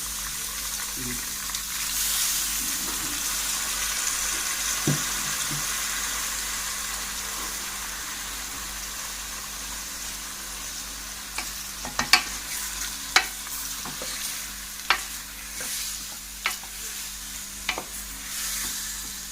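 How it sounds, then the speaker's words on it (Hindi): Steady sizzling of beef frying with ginger-garlic paste, with occasional scraping and clinking as it is stirred, several sharp taps in the later half, no voices. "अब इसको भूनना है, इसके अंदर अच्छी तरह भूनना है।"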